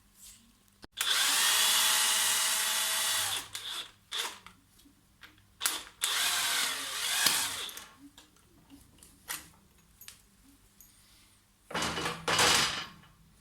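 Casing bolts are removed from a Triumph Trident T160 engine during a rebuild with a power driver, giving loud sustained whirring bursts between quieter clicks and handling knocks, close by and without talk.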